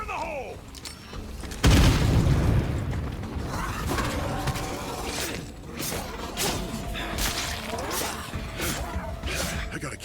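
A loud explosion blast goes off in the zombie survival game State of Decay 2, with a sudden heavy boom followed by rumbling debris and scattered impacts under ongoing game noise.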